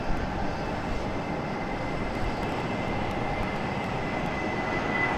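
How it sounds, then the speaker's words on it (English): An Airbus A319 departs Raleigh-Durham International Airport, its engine noise a continuous broad rumble with a faint high whine, steady and moderately loud throughout. "A little A319 departure here."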